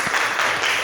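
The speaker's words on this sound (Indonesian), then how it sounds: "Bagus, tepuk tangan." A classroom full of students claps during an Indonesian-language lesson: a short, steady burst of dense applause that fills the moment without a break, with no talking over it.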